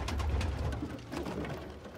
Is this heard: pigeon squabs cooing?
yes